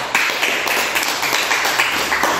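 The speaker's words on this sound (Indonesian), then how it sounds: "Oke, silakan duduk, kita kasih tepuk tangan." Classroom applause after a group presentation, a dense steady patter of many hands clapping at once, close and continuous across the whole moment with no talk over it.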